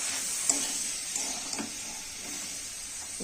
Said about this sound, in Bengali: এখন আমি ফুলকপি আলুটাকে ভেজে নিলাম, টমেটো দিয়ে দিয়েছি, আদা বাটা দিয়ে দিয়েছি